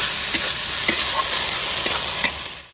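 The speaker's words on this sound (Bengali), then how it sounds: "দু তিন মিনিট নেড়ে করে করতে নেবো ভালো করে আদা রসুনের কাঁচা গন্ধটা চলে যাবে দু তিন মিনিটে" Ginger-garlic paste sizzles in oil for a village-style chicken and potato curry, with about five quick spoon scrapes against the pan over a constant frying hiss.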